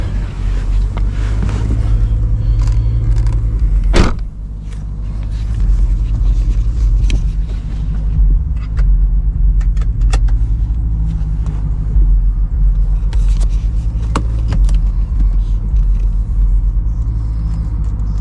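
BMW E92 M3 fitted with a new four-pipe exhaust, a deep, loud, rumbling idle that runs steadily throughout, with one sharp blip around the fourth second and gusty wind buffeting the microphone.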